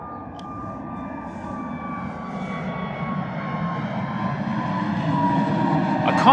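Aircraft departing Bristol Airport on a still, windless day, a broad engine rumble building steadily louder from a distance while a voice talks over it.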